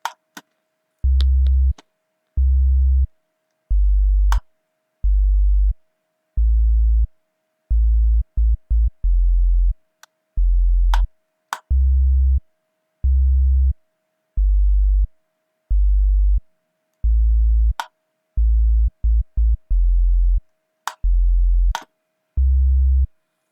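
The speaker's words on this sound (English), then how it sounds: "this is how it sounds like bass." Deep bass notes from a Bongo Flava and reggaeton type beat made in FL Studio, played alone in a repeating rhythmic pattern of short and held pulses, loud and clean.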